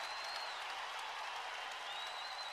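A Hawkeye crowd at a college wrestling match between Iowa and Nebraska gives a standing ovation, sustained applause and crowd roar heard faintly in the distance, steady throughout.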